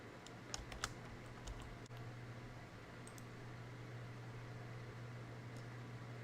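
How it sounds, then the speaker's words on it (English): Patient information is typed on a computer keyboard, a few soft, sparse key clicks at the start over a steady low hum of room or fan noise, then only the hum. "enter in your first patient information"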